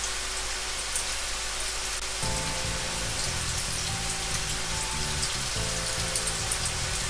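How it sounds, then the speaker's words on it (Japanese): Salmon pieces for karaage deep-fry in hot oil, giving a steady, dense crackle and hiss that carries on without a break, with a low bubbling bed that grows fuller partway through. "初めは触らないでそのまま揚げて表面が固まってきたらお玉や箸で混ぜながら揚げていきます"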